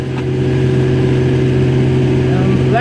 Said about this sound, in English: You will hear the tractor feel the load a little.